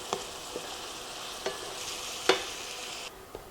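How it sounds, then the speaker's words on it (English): Taco meat simmers in a skillet with a quarter cup of water, giving a soft, faint bubbling sizzle broken by a few sharp clicks and scrapes from a utensil against the pan. "we're just going to let this simmer for 1 minute and then turn off the heat"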